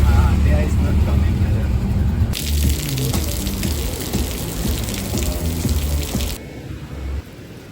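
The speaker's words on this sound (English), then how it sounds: "Raining, huh?" Rain falls in Sri Lanka as a steady hiss of heavy water, likely pouring or gushing nearby, with people talking over it before the sound drops away near the end.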